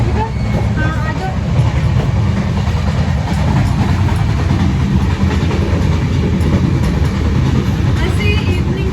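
A moving passenger train rumbles with a continuous loud roar and the rhythmic clickety-clack of its coaches, heard from inside the carriage, with people talking faintly in the background.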